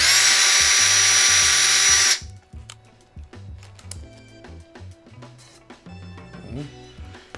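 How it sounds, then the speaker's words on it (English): A power drill whines loudly and steadily for about two seconds while boring a hole in a part on a Kawasaki KLX140 dirt bike, then cuts off, leaving quieter clicks and handling noises. "You always want to drill a little smaller than you need it to be"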